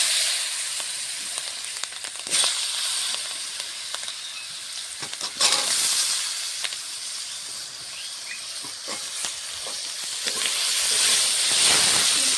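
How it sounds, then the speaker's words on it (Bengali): Cut, washed potatoes go into oil tempered with whole mustard seeds and a dried red chilli, making a loud, continuous hissing sizzle with occasional sharper spits and surges for the whole stretch. "ফোড়নটা হয়ে গেছে, কেটে ধুয়ে রাখা আলুগুলো দিয়ে দেবো আগে"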